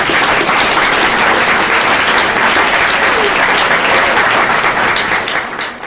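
Loud, sustained applause from a crowd at a long evening candidates' event held by a realtors association, dense continuous clapping that holds steady for several seconds before tapering slightly at the end.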